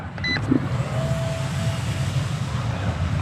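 The small electric motor of a Kootai Ki84 Japanese warbird micro RC plane, under 250 grams, runs at full throttle up close, a steady whirring drone with a brief high whine, faint beeps at the start.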